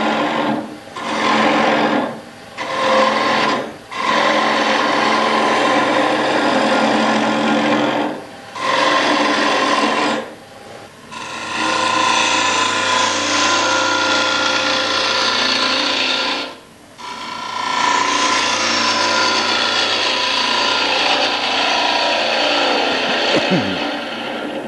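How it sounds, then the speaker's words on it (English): Woodturning gouge hogging out material from a floating rim bowl on a lathe: close, loud, rough continuous scraping in long bursts broken by brief pauses, with no talking. "Now we can start hogging out all this material here."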